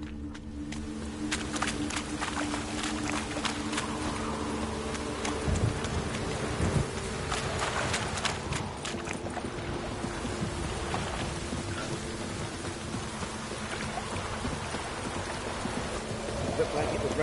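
Rain in the video game The Witcher: a steady, dense hiss of rainfall on surfaces throughout, with low rumbling thunder underneath and some speech mixed in during the first half.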